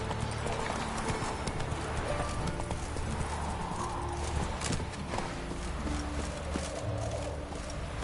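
Roach, a horse in The Witcher 3, gallops with steady rhythmic clip-clop hoofbeats over a busy game soundscape, with a brief whinny and faint birds in the background.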